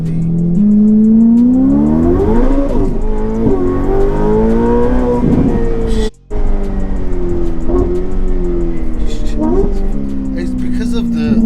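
A tuned Ferrari F8 accelerates hard and loses traction. The engine is loud and close, rising in pitch through repeated upshifts, with one brief cut near the middle, and tire noise runs underneath.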